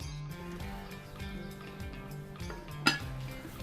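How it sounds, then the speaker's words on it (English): A lid is set onto a Dutch oven holding braising beef short ribs, one sharp metallic clink that stands out over a low, steady background hum. "Lids on our Dutch oven."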